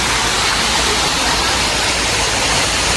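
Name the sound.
waterfall, water flowing at Sai Yok waterfall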